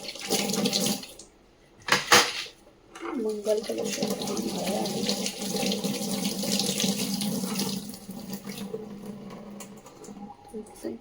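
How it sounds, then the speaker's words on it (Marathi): Water running steadily from a tap during a home puja cleaning, a continuous splashing rush with a brief louder gush early on, while someone speaks briefly nearby. "पाणी निघत ठेवते"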